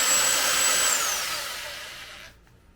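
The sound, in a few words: power drill drilling at low angle into guitar body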